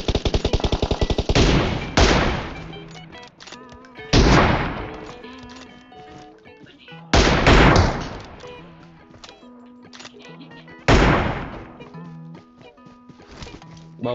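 Loud automatic gunfire in the battle-royale game PUBG comes in repeated heavy bursts about every three seconds, each fading into sparser shots and clatter between volleys.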